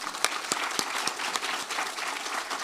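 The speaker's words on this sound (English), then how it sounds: "let's give them a round of applause" Applause from a conference audience, a dense steady patter of many hands with a few sharper claps standing out, moderately distant and without talk.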